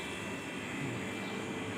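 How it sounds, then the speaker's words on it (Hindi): A loud refrigerator in a home gives off a continuous broadband hum and whir, steady and even throughout, with no other sounds standing out. "फ्रिज की आवाज़ बहुत तेज़ है,"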